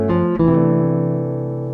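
A single jazz note phrase landing on the flat five, played on a clean sustained instrument with a quick pickup note before a long ringing tone that slowly decays, alone and close.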